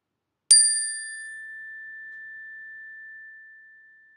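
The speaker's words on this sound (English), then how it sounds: "Would you like to hear my chime? It's got a beautiful tone" A classroom chime is struck once, giving a clear, pure ringing tone that starts sharply and then sustains, slowly fading over several seconds in an otherwise silent room.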